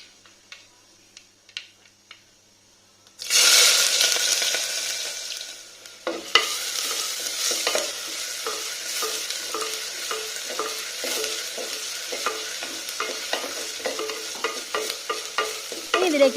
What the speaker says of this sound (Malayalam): കടുക് പൊട്ടിയതിന് ശേഷം ഇതിലേക്ക് അരിഞ്ഞു വെച്ചിട്ടുള്ള ഇഞ്ചിയും പച്ചമുളകും കൂടി ചേർത്ത് നന്നായിട്ടൊന്ന് വഴറ്റി കൊടുക്കാം